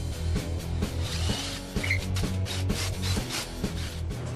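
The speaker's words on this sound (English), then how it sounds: "drill these holes a little deeper." A drill bores dowel holes deeper into wood for a six-shelf corner stand, giving a steady rhythmic grinding and rubbing with regular repeating strokes, moderately quiet and close, no voices.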